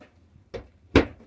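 A medicine cabinet door in a travel trailer bathroom makes two short knocks, a light click followed a moment later by a louder clack. Both are close and stand alone in a quiet room.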